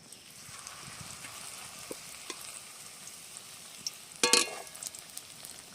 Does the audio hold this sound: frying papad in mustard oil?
yes